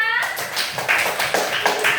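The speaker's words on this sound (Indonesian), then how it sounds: "Beri tepuk tangan untuk Rafia." A class of children clapping for a classmate after she counts pizza slices at the front of the room, a short burst of scattered hand claps under a teacher's voice.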